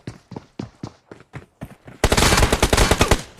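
Groza rifle gunfire in a solo-versus-squad battle royale game, a string of spaced loud single shots followed by a dense, rapid automatic burst, close and punchy with no talking.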